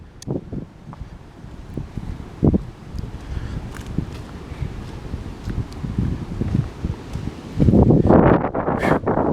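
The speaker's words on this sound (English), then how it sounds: "It is windy, guys." Gusty wind during a storm rushes and buffets the microphone steadily outdoors by a boiler area, with rumbling surges and a stronger blast toward the end; no one speaks.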